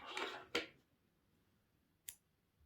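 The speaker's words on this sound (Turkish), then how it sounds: "Bir zincir çekip kesiyorum." Scissors cut crochet thread with two quick, crisp snips close by, followed a moment later by one faint click in a quiet room.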